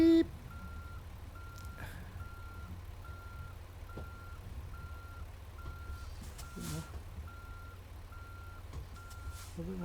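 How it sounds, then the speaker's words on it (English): A truck in American Truck Simulator gives a steady run of regular reversing beeps over a low engine rumble, with brief faint noises now and then and no talk. "Beep, beep."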